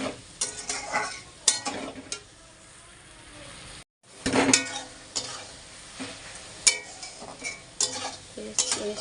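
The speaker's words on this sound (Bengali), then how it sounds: "চিনি দিয়ে দিয়েছি, ওটা ভালো করে ভাজবো।" Wood apple pickle with sugar frying in a pan, spoon stirring and scraping in repeated clattery strokes over a soft sizzle, close by, with a short pause midway.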